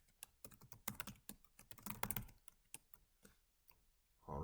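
Fast, uneven keystrokes on a computer keyboard as sign-up details are entered, a dense run of close clicks that thins out toward the end, with no talking.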